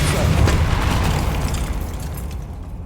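Depulso force spell cast in Hogwarts Legacy, a deep booming blast with a rumbling tail that fades out over a couple of seconds, loud and close.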